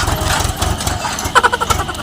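A tractor engine runs steadily nearby with a low rumbling drone, under a noisy outdoor scene. Brief tonal clattering enters near the end.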